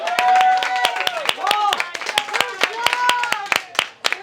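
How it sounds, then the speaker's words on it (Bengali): People in a cardio workout class clap their hands in a quick, uneven burst of claps, close and fairly loud, with voices talking and shouting over them. "সবাই হাততালি দিয়েই।"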